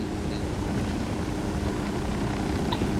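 Steady, droning rotor rumble of a helicopter in Ghost Recon Wildlands, heard alone at moderate loudness with a constant low throb and no breaks.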